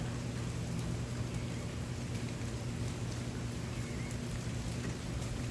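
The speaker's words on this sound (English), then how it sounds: "So we just got 5/8 of an inch of rain in about half hour, maybe 45 minutes." Steady, heavy rain pours down in a garden, a dense, continuous hiss of drops close at hand with a low hum beneath and no voices.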